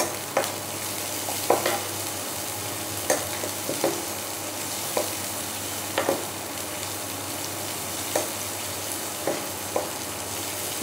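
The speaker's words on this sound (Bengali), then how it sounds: "দুটো শুকনো লঙ্কা দিয়ে দিলাম। 1 চামচে জিরে, গোটা জিরে। এবার একটু ভালো করে ভেজে নেব।" Two dried red chillies and whole cumin seeds frying in oil for a Bengali bottle gourd dal, giving a continuous even sizzle broken by regular light spoon taps and stirs, near and alone.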